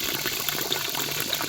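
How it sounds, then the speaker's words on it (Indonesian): A small water spout in a remote village below the mountains pours in a constant rushing splash, close and fairly loud, with nobody speaking. "Pancuran kecil ya, ini sangat bermanfaat airnya untuk mengairi pesawahan yang ada di bawah sini nih baraya"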